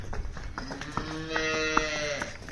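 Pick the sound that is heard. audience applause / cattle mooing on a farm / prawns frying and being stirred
cattle mooing on a farm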